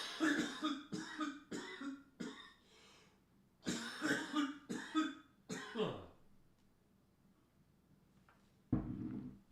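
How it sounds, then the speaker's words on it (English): A man in an indoor room breaks into a coughing fit, with bursts of harsh coughs in two clusters separated by a short pause, fairly close, followed by quiet and a final throat sound. "I'm going to cough up a lung here"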